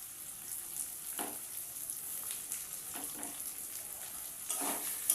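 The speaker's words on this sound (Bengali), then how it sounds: "আমি এইগুলোর সঙ্গে এই বেগুন আর আলুটা একটু ভালো করে ভেজে নেব" Eggplant and potato fry in a pan with a steady, moderate sizzle, broken by a few soft scraping stirs, close and without talk.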